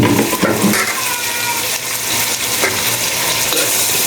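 Chopped vegetables hit a hot pan and are stirred for Filipino pancit, a steady close sizzle with scraping and clattering of the utensil throughout, no talking.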